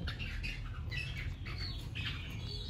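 Caged songbird giving short sharp squawks and chirps in quick bursts, close and clear over a steady low background hum, with no talk.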